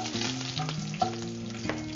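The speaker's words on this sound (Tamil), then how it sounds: "இப்ப கருவேப்பிலை போட்டு தாளிக்கிறாங்க" Curry leaves crackle and sizzle steadily in hot oil over already-popped mustard seeds and urad dal, a close, continuous frying hiss with small spitting pops.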